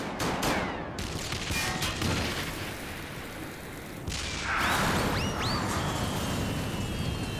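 Gunfire and explosions in Final Fantasy XIV, a loud burst of rapid shots and booms, a quieter stretch, then another volley with sharp whizzing, ricochet-like effects; no talking.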